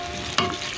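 Squash (kalabasa) sautés in a pan with a brief steady sizzle and one quick stirring scrape in the middle, no talk.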